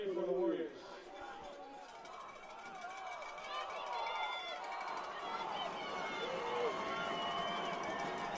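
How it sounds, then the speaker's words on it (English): A high school football crowd in a Windsor vs. Grand Junction Central game keeps up a loud, steady roar with cheering and chatter. It swells as the play builds, and an announcer talks over it. "Crowd gets loud."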